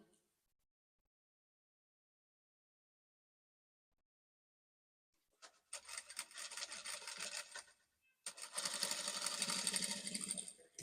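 A sewing machine stitches fabric for a flared bubu dress with a lace scallop neckline, running in two close bursts of steady mechanical whirring after a long silence.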